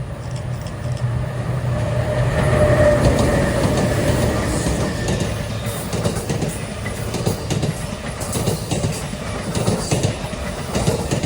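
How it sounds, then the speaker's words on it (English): Amtrak P053 autorack train led by two ALC-42 locomotives rumbles past at close range, loud and continuous, with rhythmic clickety-clack of wheels over rail joints and faint squeals as the cars roll by. "Last but not least is going to be Amtrak PO53 with an ALC 42 duo."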